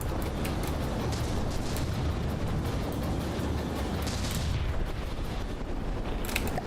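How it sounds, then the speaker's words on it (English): A flak burst gun fires in the naval combat game From the Depths, with continuous rumbling booms and explosions blending into a dense, steady roar and a few sharper cracks near the end. "here's another flak burst gun"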